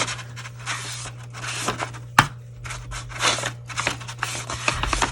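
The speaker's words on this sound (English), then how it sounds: "we're going to take and fold this one again into that middle fold" Paper is folded and creased by hand to make a tiny journal, with repeated close brushing and scraping strokes, soft rustles and one sharp click, all without voices.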